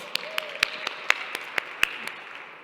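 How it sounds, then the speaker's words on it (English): Audience members applaud themselves at a beauty and wellbeing gathering, producing a brief patter of separate, evenly spaced claps, roughly nine sharp hits that sound like a small group, with a faint murmur underneath. "give yourself a round of applause"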